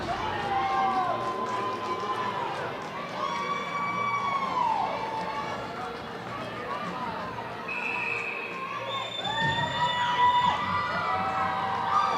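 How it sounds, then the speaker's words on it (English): Fans at a women's D1 club hockey game between Grand Canyon and Arizona State in the CU Rec Center roar steadily, with shrill whistles and noisemakers rising over a continuous crowd bed and commentary. "the crowd erupts in the CU Rec Center"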